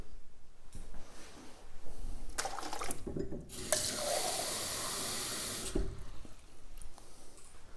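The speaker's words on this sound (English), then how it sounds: "There's plenty of water in the tap." Water running from a tap, a steady rushing flow that starts and stops, loudest in a long stretch of several seconds in the middle, close and alone.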